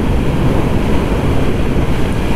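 Steady, loud wind roars and buffets against a rider on a Kymco Agility 50 scooter during a fall ride, a continuous broadband rush with no letup and no voices.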